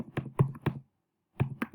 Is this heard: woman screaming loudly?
no